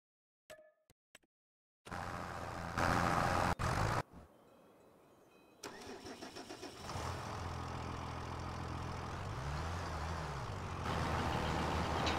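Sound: tractor working a field in video game Farming Simulator 25

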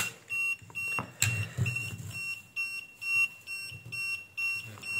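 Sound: XM-18 incubator controller buzzer, covered

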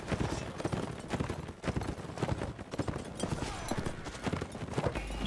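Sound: horse hooves clip-clopping in a video game

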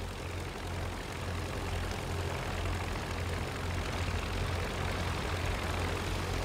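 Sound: plane engine in video game Rise of Flight

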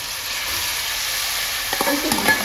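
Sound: mutton frying in hot oil

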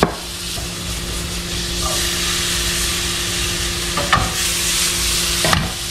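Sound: onions and peppers sauteing in oil

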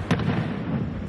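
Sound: fireworks display (castillo) in Cullera, Valencia

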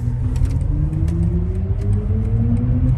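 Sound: electric car accelerating

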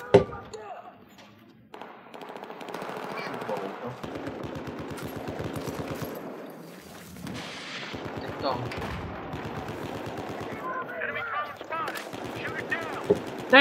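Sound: gunfire from Battlefield 4 video game

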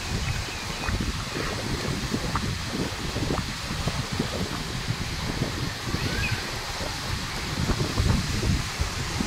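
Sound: strong wind at the beach

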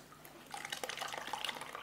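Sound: pouring liquid while making homemade probiotic

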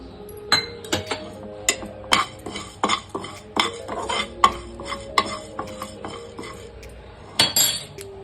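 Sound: frying and stirring cumin seeds in a pan

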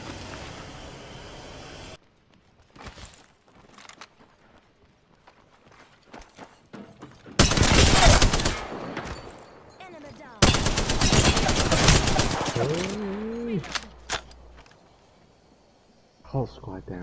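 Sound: gunfire from a gun in the video game Apex Legends

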